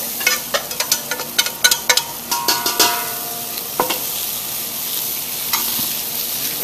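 Vegetables for a fish stock stirred in a stock pot, a run of short clattering scrapes and sizzling bursts in the first few seconds, then a steadier low hiss of frying.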